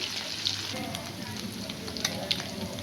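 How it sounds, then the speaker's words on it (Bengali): Small puti fish frying in oil in a pan, a steady close sizzle and crackle that runs continuously with a few sharper pops. "বন্ধুরা, মাছগুলোকে আমি ভাজতে দিয়ে নিয়েছি। এটা কড়া করে ভাজা হলে তারপরে আমি তুলবো।"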